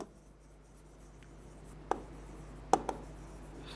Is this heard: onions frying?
no